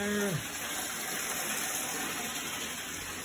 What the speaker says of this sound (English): I'm gonna put a little bit extra water in the bathtub just in case it goes out